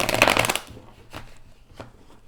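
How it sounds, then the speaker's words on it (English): A deck of tarot cards being shuffled and cut close up, with a dense riffling burst first and then a few sparser taps and slides as the deck is handled, with no talking. "Even sitting here shuffling, cutting the deck and everything"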